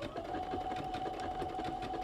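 A sewing machine stitches a patch onto a trouser leg, running steadily and continuously throughout with a close, even mechanical whir and no pauses.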